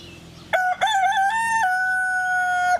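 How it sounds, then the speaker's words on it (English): A young rooster crows loudly and close by on a farm, one long drawn-out call that rises and then holds a steady pitch before cutting off. "the younger roosters, the junior roosters, are kind of duking it out a little bit today"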